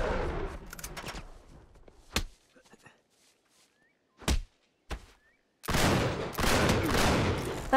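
Gunfire in the Uncharted 3 video game comes as sharp, loud bursts separated by quiet gaps, with a sustained stretch of heavy shooting near the end.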